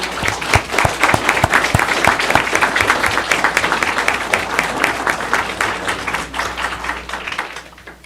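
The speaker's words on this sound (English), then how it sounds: "So I think all of them should deserve a huge round of applause before we close" A room full of people gives a long round of applause at a board of education meeting, steady, dense clapping close by that fades out at the end.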